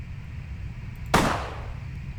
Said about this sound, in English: I will need to fire my gun a few times extra in order to drain the clip, or the magazine